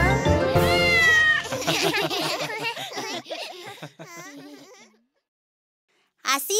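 Sung cat meows in a children's nursery song about a little ginger kitten, a voice imitating a cat in a lilting, repeated rhythm over bright music, followed by a short pause and the music resuming.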